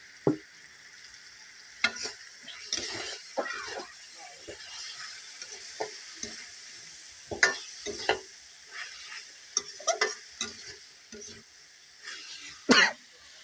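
Bitter gourd sizzles softly in hot oil while being stirred, with scattered scraping and clinking of a utensil against the pan and a few brief noises, faint and steady.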